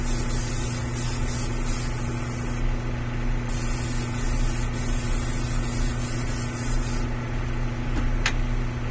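Aerosol primer hisses in a steady continuous spray onto a 1/4 scale Beast prototype model, holding close and even for the whole stretch with only slight dips, over a constant low hum.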